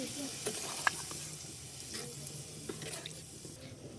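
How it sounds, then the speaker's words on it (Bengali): Water goes into a pan of frying ghugni curry and is stirred, a soft steady sizzle with scattered spoon scrapes and clicks, fairly quiet, with faint talk in the background. "একটু নেড়ে ছেড়ে জল ঢেলে দিব।"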